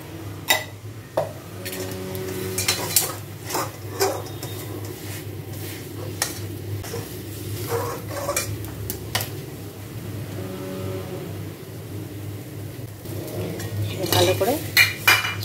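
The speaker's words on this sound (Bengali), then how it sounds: "সমানে নেড়ে নিতে হবে পুরো ডালটা, যাতে কড়াইয়ের সাথে না লেগে যায়।" A spatula scrapes and knocks against a wok as sticky mung dal is stirred, giving repeated metallic clinks and scraping strokes in uneven bursts, close and moderately loud over a steady low kitchen hum.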